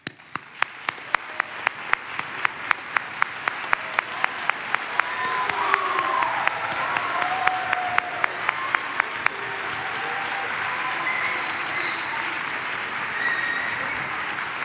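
A concert audience applauds as band directors stand at an All-City Band concert. Sustained crowd clapping builds and holds for several seconds, with a steady metallic ticking in the first two-thirds and faint whistles.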